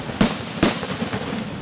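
Two heavy booming blasts about half a second apart, loud and close, artillery and mortar rounds firing during a military river-crossing demonstration, with a rumbling tail after each.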